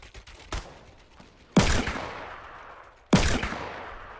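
Gunshots in a video game, three sharp loud reports spaced about a second and a half apart, each with a decaying echo tail, and no talk.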